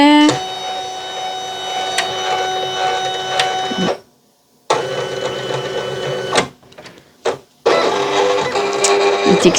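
A printer runs loud and close as it feeds sticker sheets, a steady mechanical whir broken by a pause and a few clicks before printing resumes.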